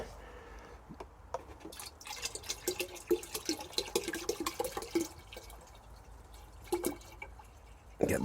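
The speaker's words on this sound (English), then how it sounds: "topping it up to the top with water, with rainwater" Rainwater poured into plant feeding containers for a comfrey feed splashes and drips in uneven, close bursts, quiet then busier in the middle, with scattered droplets and no voices.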